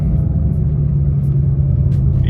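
A turbocharged BMW E46 car makes a short partial launch, a loud low engine rumble that holds close and steady for a couple of seconds.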